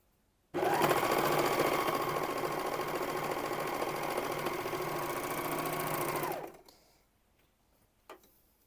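An overlocker runs continuously for about six seconds while sewing lightweight jacquard double knit fabric with the differential feed turned high, a loud, close, fast-ticking motor whir that stops abruptly and is followed by faint handling noises.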